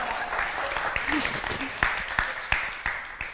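An audience at a talk breaks into scattered clapping mixed with laughter, a few sharp individual claps standing out near the end over a murmuring crowd.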